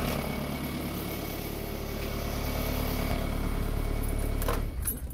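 A Renault Clio 2 engine idling steadily at close range, a continuous low hum that holds evenly before cutting off near the end as the engine is switched off.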